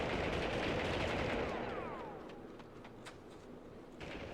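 Dense, continuous gunfire in a retro video game, a loud crackling burst that swells then thins into scattered pops, with a descending whistle through the middle and no talk.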